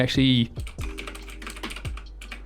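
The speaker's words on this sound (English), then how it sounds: "It is pretty noisy. It's pretty clicky when" A Razer BlackWidow Chroma V2 mechanical keyboard clicking as keys are struck, a quick burst of sharp, loud clicks and clacks at close range, with a voice speaking over the start.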